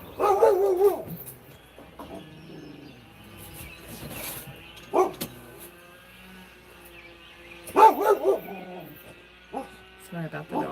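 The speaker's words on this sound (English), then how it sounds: "Sorry about the dog." A dog barks in short bursts indoors, sharp yips and barks in two main clusters with smaller whimpers and yelps between, loud and close, with faint background noise in the gaps.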